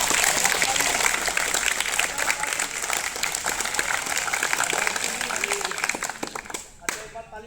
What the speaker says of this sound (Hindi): इन शिक्षकों के लिए बजाओ ताली